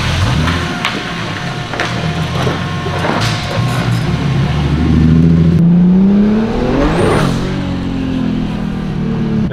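A Toyota AE86 engine with its boost turned up revs hard on a shop dyno, a loud close roar that climbs and falls through several pulls with a rising whine, no talk over it.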